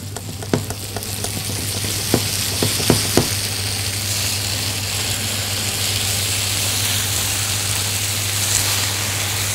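Chicken fries in a pan with a strong, steady sizzle throughout, and a few sharp pops and taps near the start.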